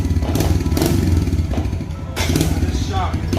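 Small Kawasaki KLX 110 motorcycle revving on a dyno, a loud close engine with pulsing throttle blips that dip briefly and rise again, with mechanical clatter.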